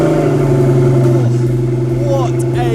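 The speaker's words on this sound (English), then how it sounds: "put that in the ignition, turn it over, and you'll hear it roar" A hypercar engine starts and runs loud and close, holding a deep steady roar with brief revving swells.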